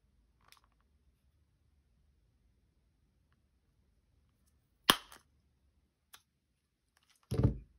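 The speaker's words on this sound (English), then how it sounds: "I'm going to try and punch right through it." Hole punch pressing through a paper book page and a sticker: a single sharp click, then a smaller tick and a heavier crunching snap, all close by in a quiet room.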